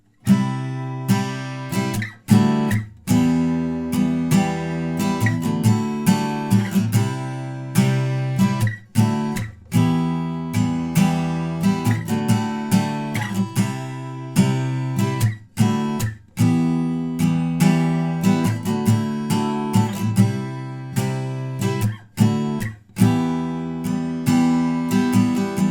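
Acoustic guitar strums the chord progression from the bridge of a song, in a steady rhythmic pattern of down and up strokes with muted hits, played alone and close.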